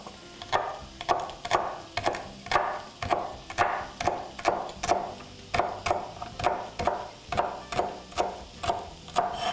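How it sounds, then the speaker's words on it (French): A knife finely chopping herb stems on a cutting board, giving a steady run of crisp, evenly spaced chops with a knock of wood under each, close up, with no talking. "Je vais hacher finement les tiges"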